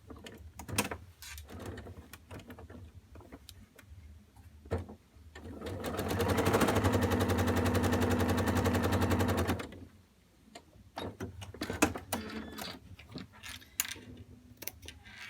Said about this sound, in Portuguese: Nós vamos passar uma costura na linha que você traçou a lápis